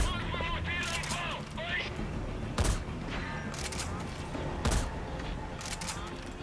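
Heavy gunfire in Metal Gear Solid 5, with dense bursts of shots and two sharp booming blasts over a constant rumble of battle, with chattering fire continuing throughout.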